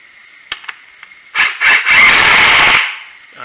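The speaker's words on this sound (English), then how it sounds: "this is a wimpy little gun that does it just right" A small power impact gun drives a bolt on a Homelite generator: a few faint clicks, then short high-pitched bursts building into a loud whirring run of about a second.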